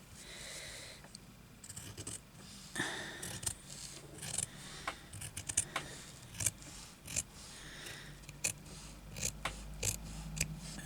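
Scissors cutting fabric for a hand-sewn embroidered bag, a close run of quiet crisp snips and blade clicks in an irregular rhythm, with soft rustling of cloth between cuts and no talk.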